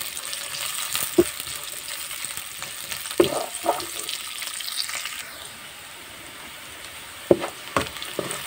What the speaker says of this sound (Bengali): পেঁয়াজের কুচি, রসুনের কুচি এবং কয়েকটা কাঁচামরিচ। এবার আমি এগুলো লাল লাল করে ভেজে নিব।